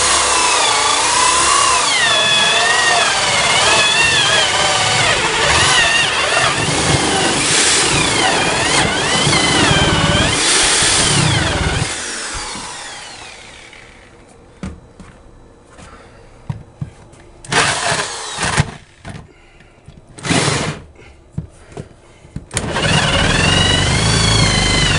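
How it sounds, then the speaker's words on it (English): A power drill whines loudly and steadily with rising and falling pitch while drilling up through a floor, then stops; scattered thumps and short bursts of drilling follow. "I got to drill up through because the bit isn't long enough to reach all the way through"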